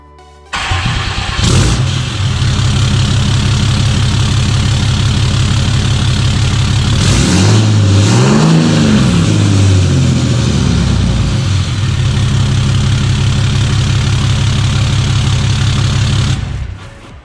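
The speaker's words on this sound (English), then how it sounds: "here's gonna be the first start with the YiKatoo 5-inch exhaust system." A 2007-2012 Dodge Ram truck fitted with a YiKatoo 5-inch stainless steel exhaust cranks and fires up, then settles into a loud, deep idle with a rev swelling and falling midway before cutting off.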